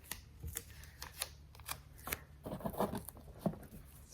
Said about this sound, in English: I'm just going to cut a couple pieces here